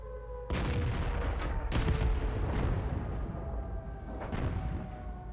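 Tank guns firing in the World of Tanks video game, with a few heavy booming shots in succession, each a sudden broad blast decaying into rumbling background battle noise.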